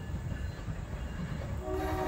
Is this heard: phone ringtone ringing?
no